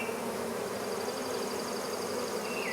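A swarm of honeybees buzzes continuously and close around a cat house, a dense droning hum with no speech, steady in loudness throughout.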